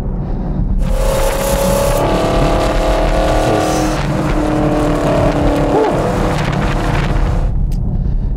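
A 2017/2018 Chevrolet Camaro V8 with a dual-mode sport exhaust set to sport mode accelerates hard, its loud, close exhaust roar rising in pitch through the revs as it pulls continuously.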